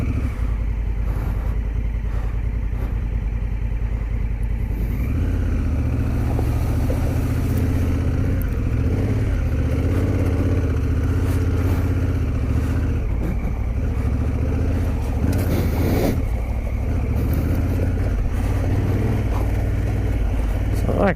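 Honda Africa Twin motorcycle idling and creeping slowly through a creek, a steady low engine rumble with small throttle changes, close and continuous, with someone talking over it.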